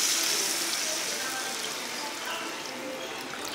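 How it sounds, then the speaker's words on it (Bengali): Water poured into masala for a village-style katla kalia curry, a steady close hiss and trickle of liquid hitting the hot spiced paste, continuous for a few seconds. "আমি এবার জলটা দিয়ে দিচ্ছি।"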